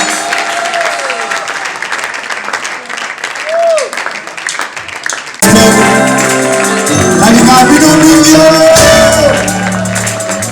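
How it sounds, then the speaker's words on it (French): A church congregation bursts into loud cheering and applause at a gospel gathering, a dense, sustained roar of clapping and shouts that follows quieter talk and continues to the end. "Des acclamations."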